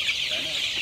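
Crowded chicks in a brooding coop holding about two thousand birds give a dense, continuous chorus of high peeping and clucking, close and loud.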